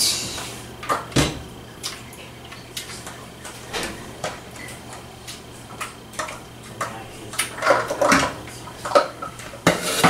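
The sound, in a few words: jam being scraped into a saucepan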